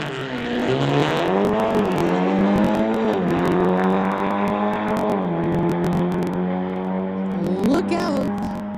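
Cars drag race at a street legal event, a 2018 Golf against a 2017 Audi S3, with engines revving up and shifting in rising, wavering tones, loud and close, while an announcer talks over it.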